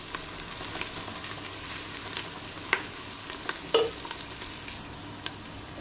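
Meat and onions browning in a pot for desi-style yakhni, a steady soft sizzle with occasional clinks of a stirring spoon against the pot, no voices.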